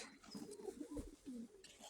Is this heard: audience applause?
no